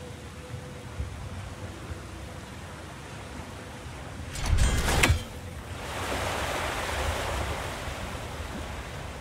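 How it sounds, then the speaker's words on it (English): Water spilling over a frozen trough in God of War Ragnarök, a steady broad rush of flowing water with a short louder splash surging midway before settling into a softer, even wash. "Oh, water's overflowing where you froze that trough."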